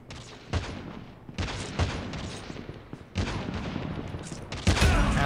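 Sniper rifle shots ring out in Call of Duty Mobile's sniper-only mode on the Killhouse map: about five sharp, loud reports spaced a second or so apart, each trailing into a noisy wash of battle sound.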